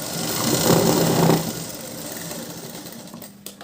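A sewing machine runs at close range while stitching a blouse seam, giving a steady mechanical whir that swells briefly near the start and then settles to a continuous hum before stopping at the end.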